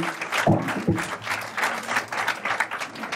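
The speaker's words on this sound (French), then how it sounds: "si vous voulez bien les applaudir avec force" An audience in Salon-de-Provence applauds the host association, a dense, steady wash of many hands clapping with a couple of sharper claps near the start and some crowd noise mixed in.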